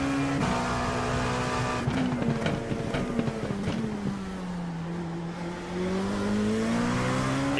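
A NASCAR race car at Michigan, geared very low, revs its engine steadily in low gear, a loud close drone rising and falling in pitch without letup.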